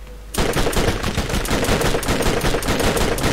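Rapid automatic gunfire in the video game Borderlands, starting abruptly after a brief quiet moment and continuing as a dense, loud, sustained burst of shots.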